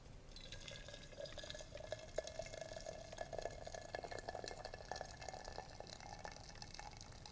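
Water is poured into a teapot with a faint, steady trickle and splash that runs continuously at low volume.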